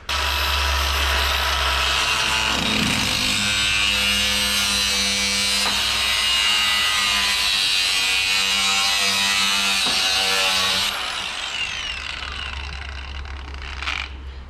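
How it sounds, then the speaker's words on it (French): A loud, continuous angle grinder whine cuts into the steel rear wing of a bent BMW E36, holding steady for about eleven seconds before winding down, heard close up. "Là on va couper à la disqueuse ici et ici pour pouvoir plaquer l'aile et la souder en lieu et place."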